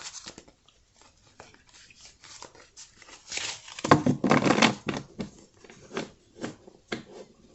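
A deck of cards is shuffled by hand with repeated soft riffles and crunchy paper bursts, irregular and close, louder in the middle then tapering into scattered flicks, no talking.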